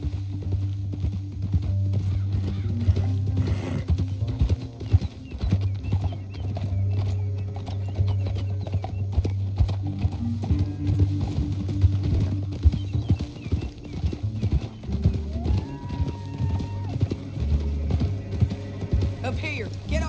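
Horse hooves clip-clop in a steady galloping rhythm through Red Dead Redemption 2, continuing for the whole stretch beneath a low rumbling bed of game sound and occasional character voices.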